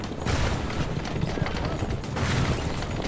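Gunfire during a carriage chase in the video game Assassin's Creed II: dense rattling shots and impacts over galloping hooves and rolling wheels, loud and continuous, with voices shouting in the mix.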